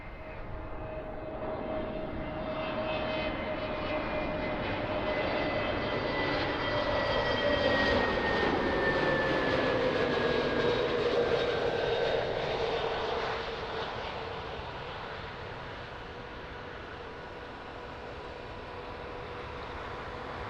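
An airplane on approach to runway 02 at Lisbon Airport roars past, its engine drone swelling to a loud peak midway and then fading steadily into the distance.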